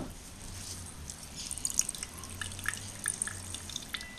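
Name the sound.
dirty water dripping off char cloth filter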